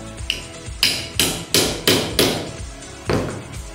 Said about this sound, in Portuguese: faço isso com o martelo